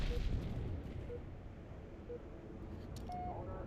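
A Halo 3 multiplayer match opens with a heavy grenade blast whose deep rumble fades into the low background of the game, heard fairly quietly and then followed by faint in-game sounds.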